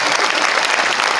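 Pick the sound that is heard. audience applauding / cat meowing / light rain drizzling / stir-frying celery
audience applauding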